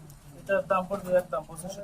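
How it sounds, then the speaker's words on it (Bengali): Red checker racer pigeons at a pigeon farm give a few soft, close coos in short rolling bursts, partly overlapped by someone talking nearby. "এই রেড চেকার রেসার কবুতর"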